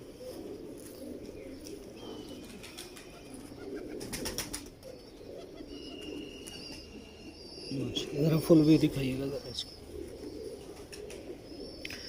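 Pigeons of the Mistri Masse breed coo in a loft, with a louder burst of cooing near the end and a brief flutter earlier, while someone talks throughout.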